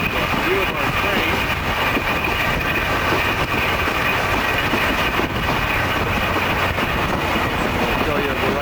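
The Peruvian Express train rides up toward Machu Picchu, giving a steady, loud rolling rumble with faint wheel clatter. Voices talk over the noise.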